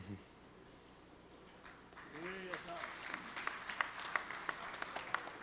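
Applause breaks out at a PanIIT conference for the conference chairs, rising after a quiet start and a brief voice, then building into moderate clapping from a crowd.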